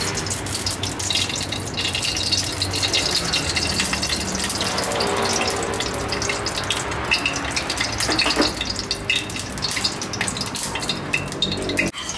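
Pork lard sizzles in a wok as a stir-fry of Chinese kale with salted fish gets underway, a steady, dense frying hiss that holds close and even throughout, with no talking.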